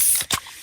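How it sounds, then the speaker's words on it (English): A freshly opened can of Pepsi gives a quick hissing spray, a short pop of fizz followed by a softer fading sizzle, close and alone. "that's the sound of a freshly opened fizz-filled Pepsi"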